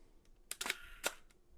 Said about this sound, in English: And that just took another half-second exposure.